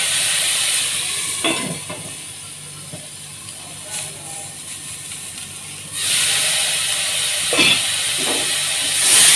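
Yakhni stock hits golden onions frying for degi-style white mutton pulao, bursting into a loud hissing sizzle that settles into a steady fizz with some clatter, then swells again near the end.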